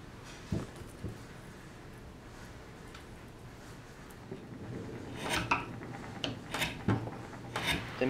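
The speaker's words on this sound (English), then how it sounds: "Then began the tedious process of carving the recess." Hand gouge carving a recess into a wooden espresso tamper, giving soft scraping rasps and a few sharper bites and knocks, quiet at first and then more frequent and louder in the closing seconds.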